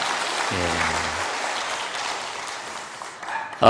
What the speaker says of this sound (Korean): 다시 한번 크게 박수 한번 해주시기 바랍니다.